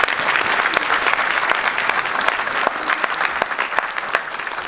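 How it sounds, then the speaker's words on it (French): Audience clapping to welcome a speaker at the presentation of a half-marathon event in Nuits-Saint-Georges, loud close applause with distinct sharp individual claps standing out over a steady crowd bed. "Vous pouvez l'applaudir."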